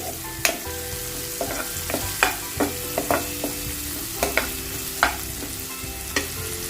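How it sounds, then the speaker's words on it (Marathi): Tomato fries in a pan for a ridge gourd (gilki) bhaji, a continuous sizzle punctuated by regular sharp clicks of a spatula scraping and tapping the pan, close and without talk. "टोमॅटो थोडासा नरम करून घेते"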